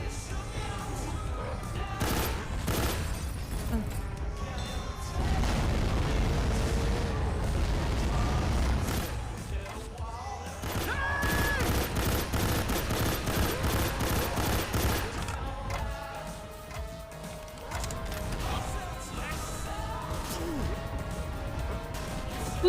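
Bursts of video game gunfire crackle and boom through most of the stretch, loud and dense with rapid volleys and heavier blasts, broken by a few quieter gaps, while voices talk over the shooting.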